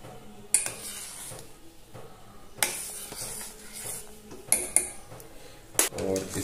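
A spoon clanks sharply against a pot of masala tea with cloves in it, striking a handful of times with short pauses of quieter stirring in between.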